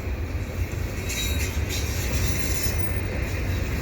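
A CP eastbound mixed freight train rolls past steadily at Dorval, a continuous loud rumble of wheels and cars with faint rail squeal on top, close and unbroken throughout.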